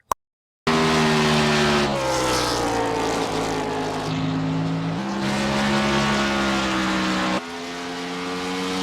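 A race car's engine roars loudly at Bristol in the iRacing sim, pitch stepping up and down through gear shifts and camera cuts during a replayed wreck, after a brief silent start, with no talk.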